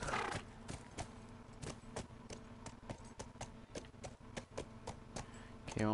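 Horse hooves clip-clop steadily in The Last of Us Remastered, a brisk, even trot of sharp, close knocks running over a low game soundscape with no talk.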